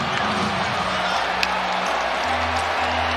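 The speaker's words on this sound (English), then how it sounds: "Crowd is going absolutely crazy" A basketball arena crowd roars after a buzzer-beater, a dense, loud, sustained wash of cheering with a steady tone sounding in the background and no clear talk over it.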